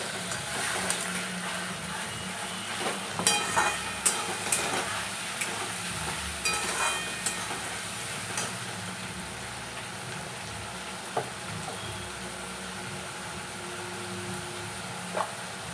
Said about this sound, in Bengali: এবার আমি যে আদা, কাঁচা লঙ্কা আর রসুন যেটা বেটে রেখেছি সেটা আমি দিয়ে দিচ্ছি।